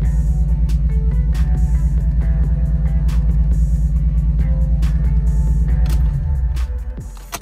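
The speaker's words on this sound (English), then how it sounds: "You can hear the way it's idling." Nissan 350Z engine idling roughly, a close loud pulsing rumble with a steady uneven beat that holds for several seconds before shutting off and dying away near the end.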